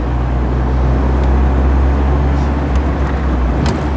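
A 1976 MG B Cabriolet engine drones loud and steady while driving, with low rumble continuous throughout and brief higher whines near the end as it runs through the gears.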